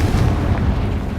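Heavy booming blast from a Confringo fire spell in the video game Hogwarts Legacy, a dense, rumbling explosion that carries loudly through the whole short moment with no talk over it.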